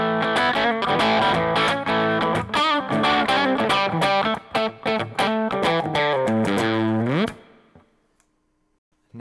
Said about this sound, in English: Now overdrive is a more subtle form of distortion, just slightly pushes the sound a little bit, give you just that barely crunchy sound.